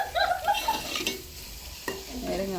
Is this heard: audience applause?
no